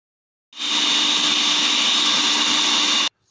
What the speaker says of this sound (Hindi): सबसे पहले जो है हमने ब्रेड को पीस लेना है